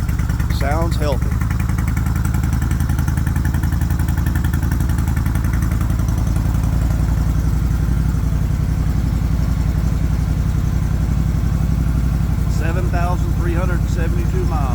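A 2004 Suzuki Intruder 1400 motorcycle, revived after 16 unregistered years, idles steadily with a loud, continuous engine thrum, while someone talks over it at the start and again near the end.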